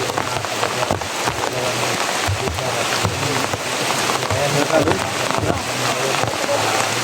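Steady rain pouring outdoors, a continuous dense hiss of drops on surfaces with gusty, wind-buffeted mic noise throughout, loud and close.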